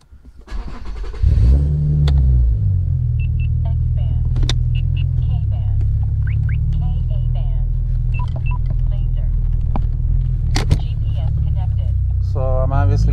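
An Infiniti G37 sedan with a SOHO 3-inch single-exit exhaust and CWorks Design resonator drives with the windows closed: a loud, steady low exhaust rumble that swells as it accelerates and holds through the whole stretch, heard from inside the car.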